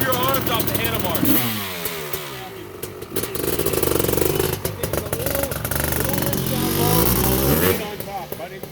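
A Honda CR500R Kaplan America Edition two-stroke motorcycle engine revs repeatedly while its jetting is tuned, loud and near, rising and falling through several bursts, with people talking over it.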